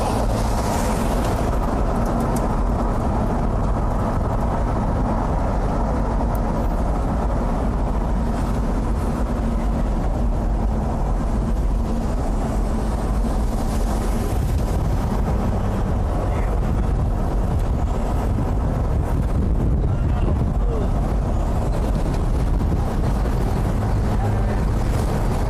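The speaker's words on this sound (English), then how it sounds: "Big wind." Strong storm wind with trees being downed nearby, a loud, constant roaring buffet that batters the microphone for the whole stretch, with a faint voice underneath.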